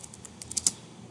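Quick run of keystrokes on a computer keyboard while text goes into an HTML heading tag, about seven crisp, close clicks that grow slightly louder, with no talking.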